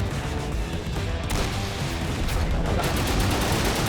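Gunfire in the video game Total Conflict: Resistance, a dense, continuous crackle of shots and battle noise filling the whole stretch, loud and close with no talking.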